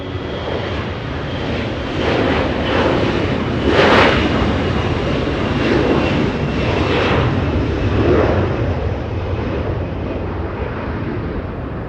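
A Delta Boeing 737-900 airliner at Los Angeles International Airport gives off a steady, loud jet roar that swells briefly around the middle and stays broad and continuous throughout, with no talking.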